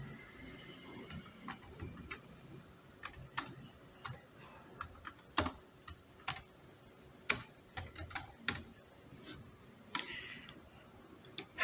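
Keystrokes on a computer keyboard as a name is typed, quiet irregular clicks in short bursts and single taps over a soft background hiss, with no voice.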